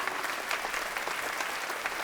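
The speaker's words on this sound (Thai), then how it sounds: "ขอเสียงปรบมือต้อนรับคุณจัวถิงกวง" Sustained applause from a crowd at a charity event, welcoming a guest onto the stage; dense, steady clapping throughout with no talking.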